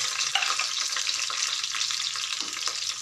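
Small shallots frying in hot oil after mustard seed tempering, a steady bright sizzle and crackle with a few soft stirring scrapes, close and continuous with no talk.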